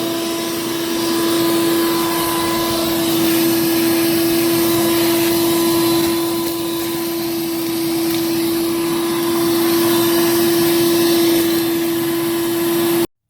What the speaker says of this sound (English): So let's grab the shop vac and vacuum.